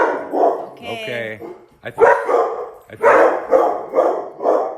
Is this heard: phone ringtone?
no